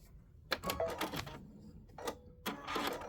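A sewing machine runs top stitching in short bursts of rapid mechanical ticking, several separate runs broken by quiet pauses, close and fairly faint.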